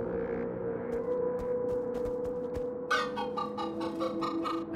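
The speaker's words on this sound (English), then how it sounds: "How's it going, chickens?" Chickens in the Minecraft Story Mode video game cluck in a series of short, sharp clucks over a steady low hum, the clucking growing busier and louder toward the end.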